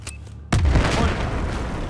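A crate of explosives blows up in Battlefield 4 with one sudden loud boom, followed by a sustained rumbling roar and debris noise that stays loud to the end.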